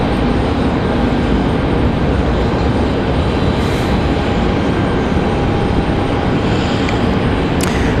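A Delta Airbus A220-300 jet departs for Boston, a loud, continuous engine roar with a faint swell in the high end partway through and a brief click near the end.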